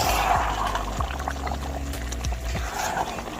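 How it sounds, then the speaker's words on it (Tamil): Lemon juice is poured little by little into ghee rice in a pot, a soft, close liquid trickle over a busy kitchen background, with a few faint low knocks. "அப்போ வந்து லெமன் சாறு கொஞ்சம் கொஞ்சமாக ஊற்றிக்கிறேன்"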